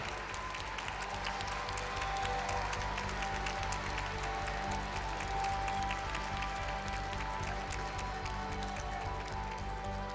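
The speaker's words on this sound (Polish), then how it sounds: "Wielkie brawa, proszę Państwa." An audience at the Miss Supranational 2014 pageant at Ptak Fashion City claps in a dense, steady patter over a low, sustained musical hum, heard at a distance and fairly quiet throughout.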